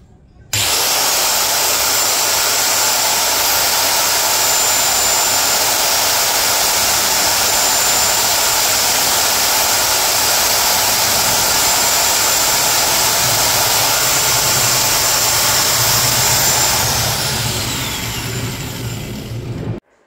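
A DCK KSM04-100B angle grinder spinning with no load, a loud, continuous high-pitched whine held steady for about seventeen seconds before winding down as it is switched off.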